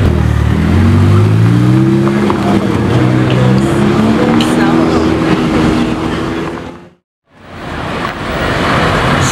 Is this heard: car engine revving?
yes